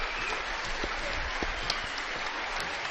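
Crowd applause in a high school girls' basketball gym on a special evening, a continuous wash of clapping with a low rumbling background and a couple of brief sharper accents.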